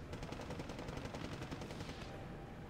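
FG-42 rifles firing in Steel Division 2, a World War II strategy game, with rapid, dense bursts of gunfire and a steady rattling rhythm across the whole stretch and no voices over it.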